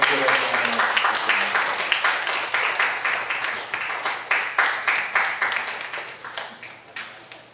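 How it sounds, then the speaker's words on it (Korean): A church congregation claps at a pastor's inauguration ceremony at Yeosan Baptist Church. The applause is full and steady at first, then turns into rhythmic, unison clapping in pulsing waves, with faint voices underneath. "다시 한번 크게 박수 부탁드립니다"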